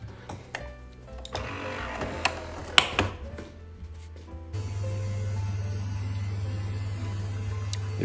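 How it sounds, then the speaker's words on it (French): A new espresso machine in a woodworking shop, brewing coffee: a steady, loud mechanical pump hum starts partway through and runs without pause, after a stretch of clicks and rattles. "Donc là, c'est une nouvelle machine de l'atelier. C'est un espresso vraiment pas mal."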